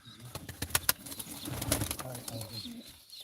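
Pigeons at a live pigeon auction give low, throaty coos under a busy mix of wing flaps and sharp clicks, with faint talk in the background.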